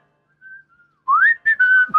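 Mobile phone whistling ringtone going off: a few soft, thin whistle notes, then a louder, close melodic whistled phrase with rising and falling tones, heard alone.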